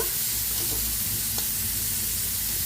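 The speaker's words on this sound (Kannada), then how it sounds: "ಸ್ವಲ್ಪ ಗುಲಾಬಿ ಬಣ್ಣ ಬರಲಿ ಫ್ರೈ ಆಗಲಿ ಈರುಳ್ಳಿ ಎಲ್ಲ ಚೆನ್ನಾಗಿ ಫ್ರೈ ಆದ ನಂತರ" Onions fry in a pan with a loud, continuous sizzle and hiss and a few faint stirring sounds, heard up close and without talk.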